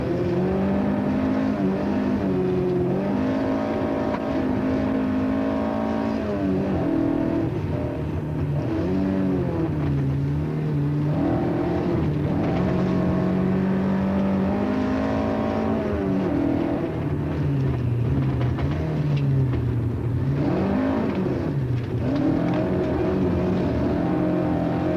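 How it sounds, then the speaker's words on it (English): A Ford Escort rally car speeds back toward Nairobi, its engine droning steadily and loudly throughout with shifting pitch as it accelerates and eases off, heard alone without speech. "His Escort speeds back to Nairobi after what must rank as the finest drive of his career."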